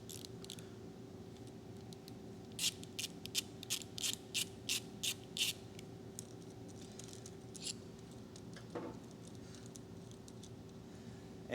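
A Honda F32A engine's balancer shaft bolt is worked loose with a ratchet, giving a burst of quick, close clicking pawl ticks amid a quiet workshop hum with a faint steady tone.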